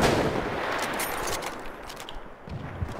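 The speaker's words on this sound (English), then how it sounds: "Yun, na mortar." In Battlefield 1, mortar fire booms out in heavy, rumbling blasts, with a strong impact at the start and another thump near the end. Distant battlefield noise fills the gaps between them.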